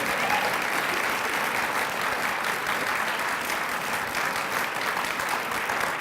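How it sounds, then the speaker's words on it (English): Steady, dense applause from a lecture-hall audience at a university research lecture, loud and continuous for the whole stretch with no talk over it. "how about a round of applause for Karl?"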